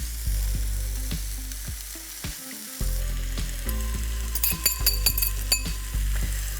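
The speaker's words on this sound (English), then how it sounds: "I can add the eggs directly into the sesame oil." Eggs frying in sesame oil in a hot pan for fried rice, a steady close sizzle with a low hum beneath, broken by repeated clinks and scrapes of a metal utensil against the pan.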